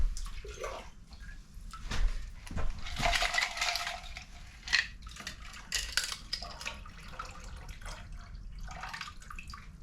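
Close, fairly quiet splashing and swishing as carburetor parts are rinsed in a container of water in a workshop, with drips and small metallic clinks coming in irregular bursts, no voices.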